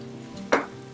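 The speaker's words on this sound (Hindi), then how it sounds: "अब इसमें चिकन ऐड करके इसको तकरीबन 10 से 15 मिनट भुनाई करेंगे चिकन के साथ" Chicken frying with masala in oil, a low steady sizzle broken by one brief louder stir or splash midway.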